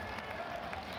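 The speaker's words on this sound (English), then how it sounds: "His father applauds, as he should." Applause from a judo arena crowd after Teddy Riner wins his eighth world title in Astana, a steady wash of clapping held at moderate distance for about a second, with faint crowd murmur mixed in.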